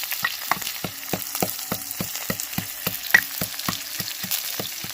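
Chopped onion frying in a pan of hot oil, a steady crackling sizzle broken by regular rhythmic scraping strokes of a spatula, close and fairly loud, with no voices.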